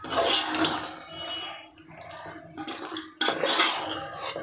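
Marinated chicken in yogurt and ginger-garlic paste being stirred in a pot for dum biryani, with a metal spoon clinking and scraping against the pot in irregular bursts, close and fairly loud, with no talk.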